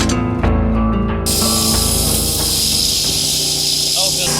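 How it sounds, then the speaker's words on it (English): Pressurized air hisses steadily into a pipe-lining balloon during a root-damaged sewer pipe repair, a loud continuous rush starting abruptly and holding over background tones. "This is a pressurized air that goes into the balloon"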